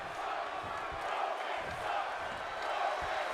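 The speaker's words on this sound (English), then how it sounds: "Crowd saying Roman sucks, but Roman right out of the gate with a shot" Video game wrestling arena crowd in WWE 2K22 keeps up a steady, dense roar with rhythmic chanting swelling and dipping throughout, loud and continuous with no clear pauses.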